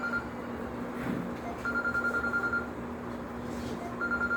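A lone telephone ringing during a church sermon, repeated bursts of electronic trilling ring over a constant low hum and room noise.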